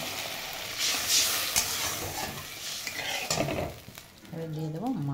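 Mustard and poppy seed fish curry paste with green chillies is sautéed in a pan, heard as a steady sizzle with scraping stirring strokes and a clink of a spoon, then a brief tonal sound near the end.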